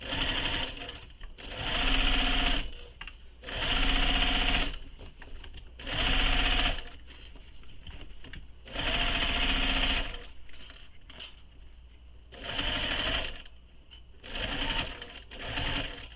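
A sewing machine stitches the seam of a crossbody bag in repeated bursts of steady, close whirring, pausing briefly between runs as the bag is turned to pivot at corners.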